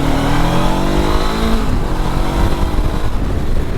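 A 2021 Honda CB500X motorcycle engine revs up loudly and close, its pitch climbing then dropping as it shifts and pulls away on a road, a steady roar throughout.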